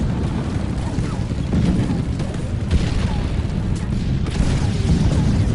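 Continuous rumbling booms and blasts of a night battlefield in a Pacific war tank battle, dense and loud, with overlapping explosions and no clear pauses.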